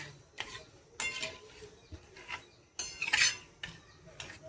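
A spoon scraping and clinking in a pan while strawberry rava sheera is stirred, several separate bright metallic scrapes and taps up close, with no talking.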